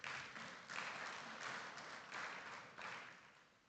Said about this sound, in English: we need to give a round of applause for that